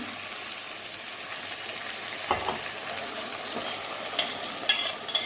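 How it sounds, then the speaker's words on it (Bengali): Puti fish sizzles steadily in a hot pan for a mustard paturi, with a splash of water added partway through causing brief bubbling and crackling flares over the continuous close frying hiss. "আমি একটুখানি জল দিয়ে দিই।"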